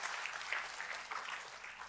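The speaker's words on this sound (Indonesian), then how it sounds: "Tepuk tangannya boleh paling meriah buat Tuhan kita." A church congregation applauds during a sermon, a steady, dense wash of many hands clapping at moderate distance, filling the space without pause and without speech.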